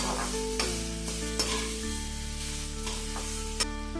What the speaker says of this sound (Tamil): எண்ணெய் ஊற்றிருக்கோம் நல்லா இஞ்சி போட்டோம் ஒரு அஞ்சு நிமிஷம் நல்ல இஞ்சியை நல்லா வதக்கி